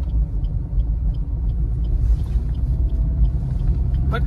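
A car is driven along a ghat road, its engine and tyre noise forming a steady, close low rumble from inside the vehicle, with no clear talk.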